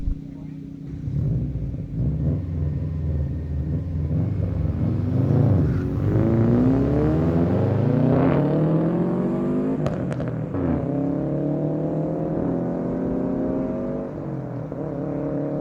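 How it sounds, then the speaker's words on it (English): At a no-prep dragstrip, a Honda Civic and a Toyota Camry daily driver race off the line, engines rising loudly through gear changes as they pull away and fade, with an announcer talking over the run. "Honda Civic against a Toyota Camry on the left side."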